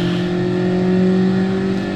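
Car engine in Gran Turismo Sport winding down under engine braking, a steady loud droning hum with strong low harmonics that slowly falls in pitch, alone without talk.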